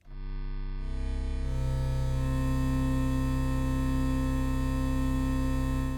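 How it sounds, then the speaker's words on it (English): A buzzy, bright digital wavetable synth in Omnisphere holds a sustained chord, layers entering within the first second or two, then droning steadily and loud. "So it's a really kind of buzzy synth sound."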